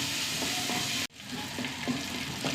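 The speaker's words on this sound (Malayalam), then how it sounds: "ഉള്ളി നന്നായി മൂത്ത് വരട്ടെ." Onions and curry leaves fry in hot oil with a dense, close sizzle that cuts out briefly for an instant and then comes back a little quieter. Light stirring taps sound throughout and no one speaks.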